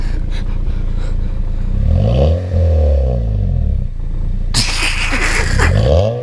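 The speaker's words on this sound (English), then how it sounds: "Rev it up." A car fitted with a fart cannon exhaust revs loudly up close, its deep, throaty drone rising and falling, and a sharp burst of clatter or exhaust noise breaks in near the end.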